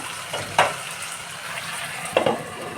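Mixed vegetables sizzle in a pan for a small-fish chochchori, a steady close hiss with two sharper bursts of stirring as they are turned over.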